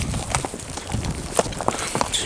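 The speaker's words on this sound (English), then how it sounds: "Lead the horses down with a big heavy load on." Horses carrying a heavy load of caribou are led down a ridge, their hooves giving irregular clip-clopping thuds over a rustling outdoor background.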